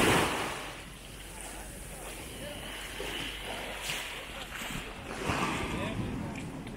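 Ocean surf rolling onto a beach at Les Salines, a steady wash of breaking water mixed with gusty wind buffeting the microphone, while a person talks over it.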